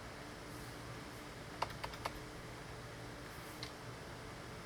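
A few quiet keystrokes on a computer keyboard enter a command, a short cluster of soft clicks followed by one more tap against a steady background hiss and fan noise.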